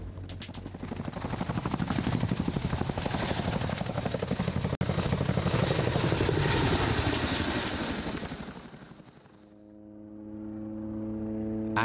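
A helicopter flies steadily and loudly with a dense rotor and engine roar, briefly cut once, then fades away near the end before another tone comes in.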